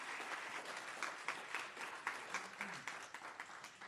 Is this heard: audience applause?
yes